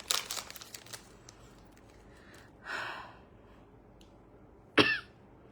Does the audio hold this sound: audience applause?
no